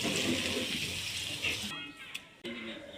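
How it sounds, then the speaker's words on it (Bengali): Water poured into a cooking pan of half-boiled cauliflower posto, a steady broadband splashing rush that runs for most of the moment, then cuts off abruptly and leaves a quieter kitchen hiss with a brief clink. "আরেকটু সেদ্ধ হওয়ার জন্য আমি জল দিয়ে দেব।"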